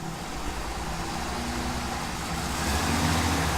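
A 1982 Toyota SR5 4x4 pickup engine runs close by with a steady rumbling drone that swells slightly toward the end as it is revved.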